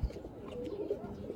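A male Sapchila pigeon coos in low, throaty murmurs, held close and fairly steady through a short stretch.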